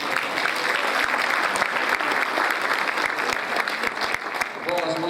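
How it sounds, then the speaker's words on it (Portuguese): A congress workshop audience applauds continuously, a close, busy patter of many hands clapping with a voice speaking over it near the end. "Bate palmas para eles."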